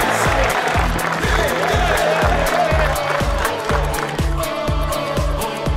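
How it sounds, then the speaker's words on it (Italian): Crowd applause at a charity football derby between YouTuber teams, Milan against Inter, a dense, steady clapping from a stadium crowd lasting throughout, with a rhythmic thumping beat underneath. "Un applauso per Mirko Mengozzi."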